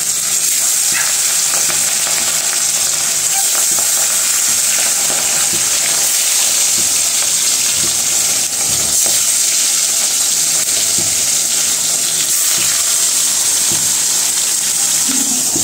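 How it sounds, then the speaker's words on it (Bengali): Fish pieces frying in hot oil in a kadai wok, a loud, unbroken crackling sizzle close by that holds steady for the whole stretch with occasional sharper spits and pops. "প্রথমে মাছগুলো ভেজে নিব, কড়াইতে তেল দিয়ে দিছি"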